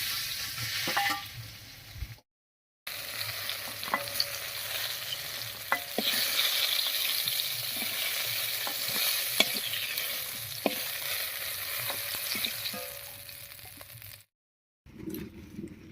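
Eggplant slices frying in hot oil in a home kitchen, a steady close sizzle with occasional scraping and clinks of a spatula, briefly cut out twice.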